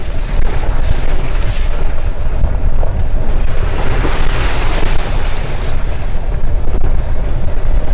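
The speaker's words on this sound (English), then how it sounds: "It just won't stop raining." Heavy rain pours down in a loud, constant hiss and rumble, close and unbroken throughout, with gusty swells that sound like wind buffeting the microphone.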